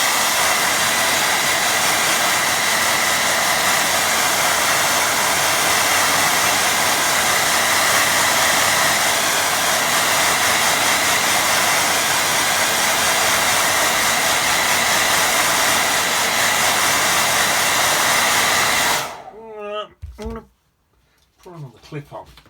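A hair dryer blows steadily and loudly on a watercolour painting of mountain reflections, a continuous close roar lasting about nineteen seconds before it switches off, leaving brief handling noises.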